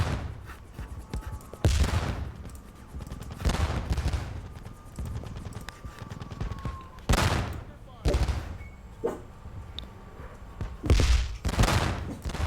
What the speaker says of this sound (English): Oh man, really heavy fire there.